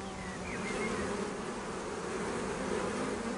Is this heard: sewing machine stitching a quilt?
no